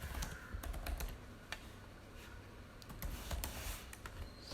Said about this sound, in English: So I'll quickly type a C program around it.